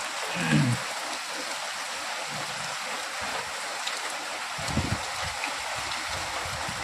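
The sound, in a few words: steady rain falling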